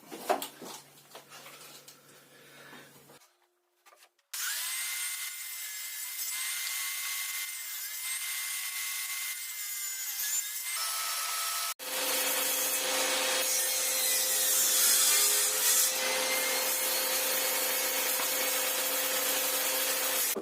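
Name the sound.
sawing wooden boards for a beehive nucleus box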